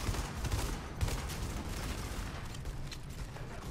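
Dense, continuous gunfire in The Division fills the whole stretch: a steady wash of rapid shots with a few heavier booms near the start, fairly distant and even in level, with no voices.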